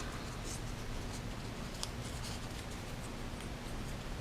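Rolled paper twisted inside the output jack of an original 1960 Fender Esquire Custom guitar to scrub the contacts, giving a steady dry scratchy rustle with faint ticks throughout, close and alone.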